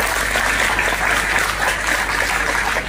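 Loud, sustained audience applause at a Model United Nations inauguration in India, many hands clapping evenly and continuously with a low hum underneath.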